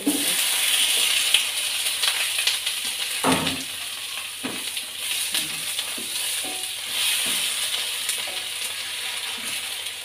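Garlic and onion sautéing in a pan for adobo, a steady bright sizzle running throughout, with scattered stirring clinks and one sharper knock, close and unbroken.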